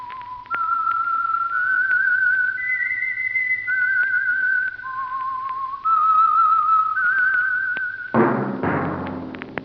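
A clear, solo whistled melody of sustained, wavering notes stepping up and down, ending in a sudden burst of brassy orchestral sound.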